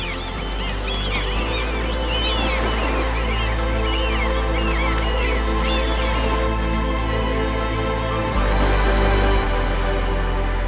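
Seagulls call over a Danish fishing harbour, their repeated squawks and cries coming in bursts at middle distance above a steady low rumbling hum.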